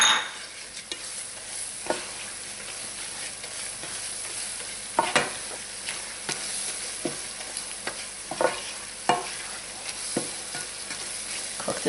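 A spoon or whisk scrapes steadily through flour and fat in a hot pan while making a roux for shrimp étouffée, with a soft sizzle underneath and sharper clinks against the pot at irregular intervals, close and moderately loud.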